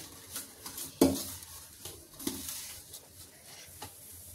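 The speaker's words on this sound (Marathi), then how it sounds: "तर आता आपण चमच्याने जसं एकजीव करून घेणार आहोत सगळीकडे" A spoon stirs a warm jaggery mixture for methi laddoo in a pot, making soft scraping strokes with one sharp clink against the rim and lighter taps after, fairly quiet, close and without speech.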